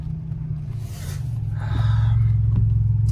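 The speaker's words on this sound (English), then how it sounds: "We are leaving with the car." A Chevy S10 pickup truck with a cut exhaust rumbles steadily and grows louder as it pulls away, with a low continuous drone and faint road noise.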